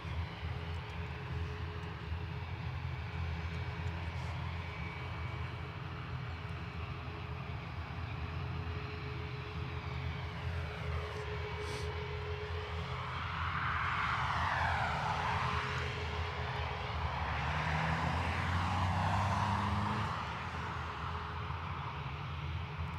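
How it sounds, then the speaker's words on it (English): An ATR turboprop airliner at Dublin Airport gives off a steady, fairly faint engine drone with a rising, sweeping swell partway through before it eases off again. "ATR will be heading to Leeds Bradford."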